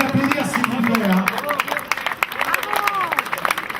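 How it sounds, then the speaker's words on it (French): A crowd claps for a cyclist at the prize-giving of a June 2013 OMS Paris 14 bike race, scattered hand claps rattling steadily under a voice speaking over the applause. "On peut l'applaudir s'il vous plaît."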